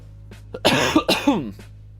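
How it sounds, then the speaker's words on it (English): A short burst of harsh, close coughs, two or three in quick succession, with no talk. "Excuse me, I'm coughing a lot today."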